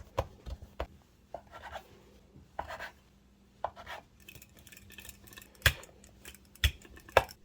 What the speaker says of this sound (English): Cut and portion to whatever size you like.